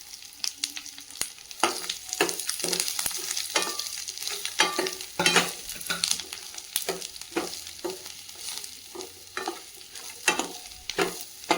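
Garlic and onions sauté in a hot pan for potato masala, with loud close sizzling broken by frequent scraping stirs of a spoon against the pan in an uneven rhythm.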